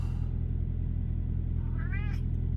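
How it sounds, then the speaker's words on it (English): A cat purrs in a low, steady rumble inside the cab of a semi truck parked for the night in Omaha, and one short meow rises near the end. "You're still purring?"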